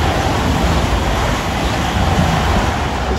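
A Class 222 Meridian passenger train runs along the main line near Chesterfield South Junction at Clay Cross, heard as a steady, loud broadband roar that holds throughout, much like rushing wind, with no talking.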